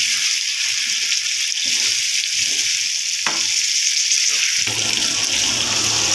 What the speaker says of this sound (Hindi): भूनने के बाद इसमें डाल दिया जी पानी